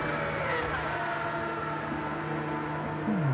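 Racing cars in Gran Turismo 7 give off a thin, high, steady engine whine like buzzing mosquitoes, holding sustained tones that slide slightly in pitch, with a brief falling sweep near the end.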